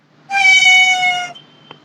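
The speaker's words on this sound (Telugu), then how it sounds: "నెక్స్ట్ క్యాట్ది" A single drawn-out cat meow from a stock sound-effect library, clear and close, about a second long, followed by a faint click.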